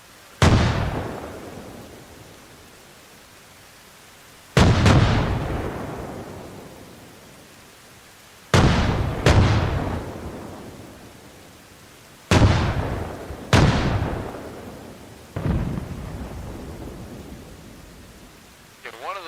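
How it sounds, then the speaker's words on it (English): Mortar rounds from in-game artillery in Arma Reforger land one after another, six heavy booming blasts spaced a few seconds apart, each rolling away in a long rumbling decay. "One of those was a mortar."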